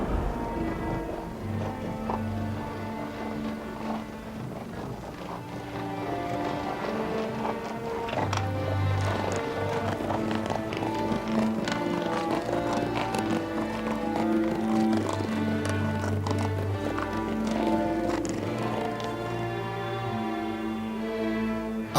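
Hooves of a horse-drawn carriage clip-clop steadily as it approaches, a continuous rhythmic trotting that grows slightly louder, set against a tonal musical background with no speech.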